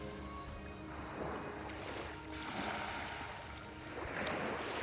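Quiet sea waves wash gently onto a beach, with a soft continuous surf and light wind on the microphone, faint and distant with no talk.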